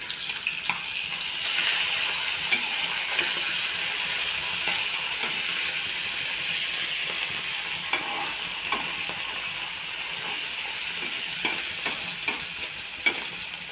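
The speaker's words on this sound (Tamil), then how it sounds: "இப்போ வந்து மீனை திருப்பி விட்டுடலாம்." Anchovy fish fry in hot oil in a pan after being flipped, a steady close sizzle with scattered crackles and pops and no voices.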